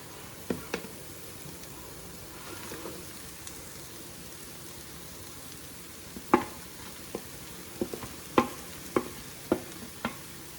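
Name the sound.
jaggery melting and cooking in pan on stove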